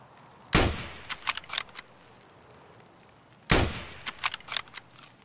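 Two sharp, loud rifle shots from Escape From Tarkov, spaced about three seconds apart, each followed by a short trail of clattering echoes and smaller cracks.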